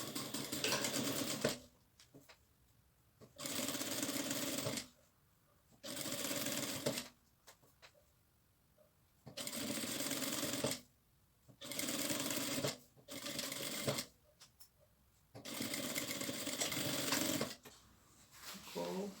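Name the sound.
sewing machine stitching with a zipper presser foot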